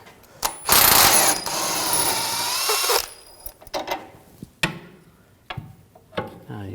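A hand ratchet turns an 18mm socket to remove a bolt during rear CV axle replacement on a 2007-2013 BMW 328i 3.0L L6, a loud close clicking run followed by several short bursts of ratcheting.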